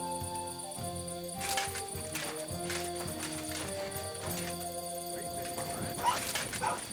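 A dog barks in Kingdom Come: Deliverance II, a few short barks over steady background music and clopping game sounds.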